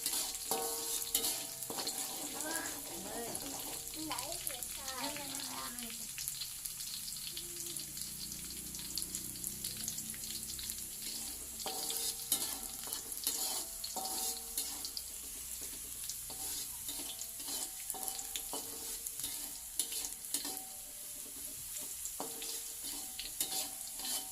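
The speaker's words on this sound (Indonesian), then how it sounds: "terus kita akan memasukkan cabai ya guys, dan bumbu-bumbu lainnya." Chili and spices stir-fried in a pan for a Padang-style tumis lompok, with a steady, fairly close sizzle and frying crackle, scraping stirring strokes early on, running continuously without talk.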